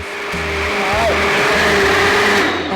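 A blender whirs steadily while mixing a matcha drink, its motor drone loud and close throughout, with people talking over it.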